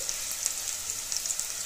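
Potato, carrot and cauliflower pieces frying in a pan give a steady, close sizzle with scattered small pops and crackles throughout, no voices.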